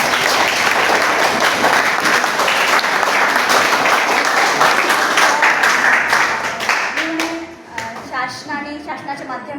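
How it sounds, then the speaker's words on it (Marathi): Audience applause at a lecture fills the room loudly and steadily, then thins out toward the end as a voice begins speaking over the last scattered claps. "टाळ्या वाजवा."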